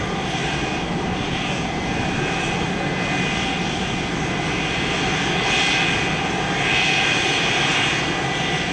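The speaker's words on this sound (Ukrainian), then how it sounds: "тим часом на них уже чекає літак, який готується злетіти в небо" A passenger airplane at a regional airport in Rivne runs its engines while preparing to take off, a loud steady roar with a high whine, swelling slightly toward the end and never letting up.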